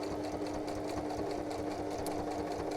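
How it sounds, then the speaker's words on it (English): A small sewing machine stitches through pages of a handmade boho journal, a steady, fast, continuous mechanical whirr with a constant motor hum, close and loud throughout with no talking. "This poor little sewing machine."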